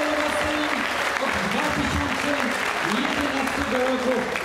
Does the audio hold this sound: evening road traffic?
no